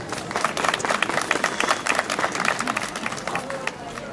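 An audience at a Miss Alsace 2013 pageant applauds a candidate with dense, steady clapping that holds for several seconds before tapering slightly, fairly distant and without voices over it.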